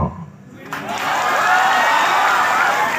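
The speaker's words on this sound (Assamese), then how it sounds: "এই হাত চাপৰিটো প্ৰমাণ কৰিলে," An audience at a public speech bursts into applause, a dense steady clatter of clapping that swells quickly after a brief quiet moment and holds loud to the end.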